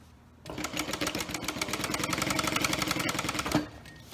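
A sewing machine back stitching the seam of a zipper pouch, starting abruptly and running in a fast, even rattling burst of stitches for about three seconds before stopping, close and alone.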